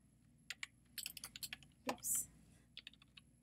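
Typing on a computer keyboard at a desk, a run of sharp separate keystroke clicks with brief pauses, one louder clunk partway through, close and fairly quiet with no talking.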